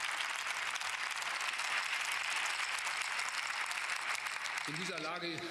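Members of the German Bundestag applaud during the Chancellor's address, a dense, sustained wash of clapping filling the chamber at an even level, with a voice starting to speak near the end.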